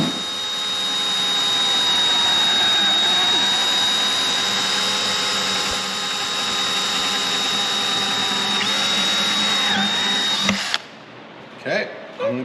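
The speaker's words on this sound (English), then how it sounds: "go ahead and drill straight down into that mount" A power drill whines steadily at high speed for about ten seconds, shifting pitch slightly as it bites into a mount for riveting, then stops, followed by brief voices.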